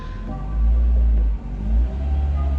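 A cold Renault Clio RS engine idles steadily without revving, a close, even low rumble that holds throughout with one brief dip in the middle.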